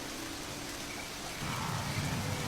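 Heavy rain pours down in a steady dense roar that thickens midway, with a low rumble underneath and no voices.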